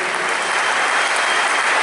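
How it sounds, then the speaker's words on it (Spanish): An audience at the national guitar festival applauds an accordion player, a dense, continuous wash of clapping that stays loud and even throughout. "Fuerte el aplauso a Maximiliano Moyano"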